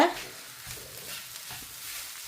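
Cassava puttu upma with grated coconut is stirred in a pan, a soft, faint scraping and light sizzle heard briefly and up close.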